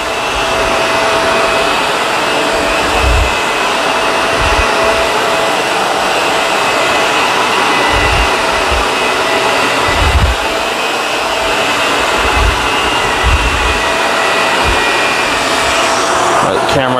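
A Dyson Ball upright vacuum cleaner runs continuously over carpet, a loud steady roar with periodic low thumps as it is pushed back and forth across the main floor area.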